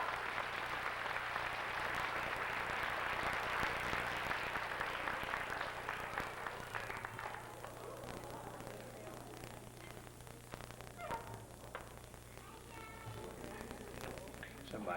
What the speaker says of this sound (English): Let's give them all a nice round of applause, please.